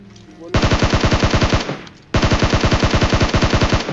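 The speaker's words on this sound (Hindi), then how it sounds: "मिलिट्री बेस में अगेन कुछ बॉट्स फायर करते हैं" Bots firing automatic guns at a military base in a battle royale video game: two long, loud, close bursts of rapid rhythmic gunfire with a brief gap between them, and no voices.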